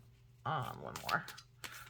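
A deck of cards is shuffled by hand, a soft riffling burst that rises then trails off, with a faint hum underneath and a brief knock at the end.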